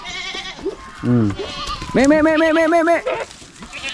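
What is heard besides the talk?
goats bleating on a farm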